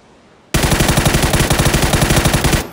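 Gunfire from enemy players in an online shooter, one loud, fast rapid-fire burst of about two seconds that starts abruptly and stops, close by and not under speech.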